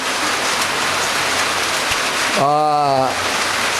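Steady light rain hisses on surfaces throughout, close and even. A voice briefly speaks over it near the end.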